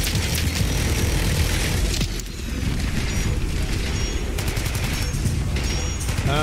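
Heavy gunfire in Fallout 4: a dense, loud, continuous barrage of rapid shots and booming impacts, briefly easing for a moment before pounding on again without pause.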